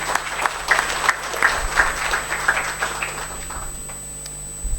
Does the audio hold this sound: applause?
yes